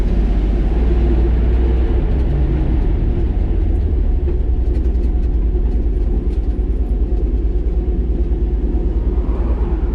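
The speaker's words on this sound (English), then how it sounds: "Let this car pass me." A car rolls past an old farm truck pulled over on the roadside, heard as a steady low rumble that stays loud throughout, with no talking.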